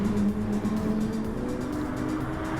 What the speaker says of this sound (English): Now I'm back on the gas right there, back on the gas hard, full throttle, and then go.